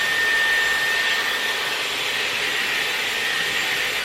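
Dyson AirWrap hair styler blowing a steady, loud stream of air at close range, a continuous airy roar with a faint high whine running unbroken throughout.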